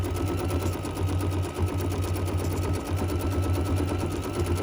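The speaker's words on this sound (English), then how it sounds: "begin where you left off, and stitch out your quilting design" An embroidery machine stitches an edge-to-edge quilting design, giving a steady rapid mechanical chatter with a low pulsing hum that briefly pauses, close and continuous with no speech.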